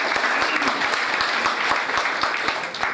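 An audience at a celebration program applauds, a dense, steady wash of many hands clapping together at close range for the full few seconds, with no talking over it.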